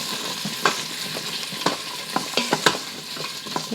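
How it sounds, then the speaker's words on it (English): Onions sautéing in rendered beef brisket fat in a pot, a steady soft sizzle broken by sharp scrapes and clicks of a utensil stirring at irregular intervals, close and without talk. "I'm gonna put it back in the pot to get my onions going."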